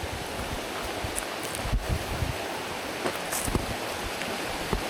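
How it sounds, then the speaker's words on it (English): Steady broadband water rush of a flowing stream on a mountain trail in the Adirondack High Peaks, continuous and moderately loud, with a few faint ticks on top. "I hear water ahead"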